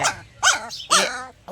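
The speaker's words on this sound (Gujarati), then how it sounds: "મારો ડોગ" A dog barks three times close by, short sharp barks with a slightly growly edge and brief pauses between them.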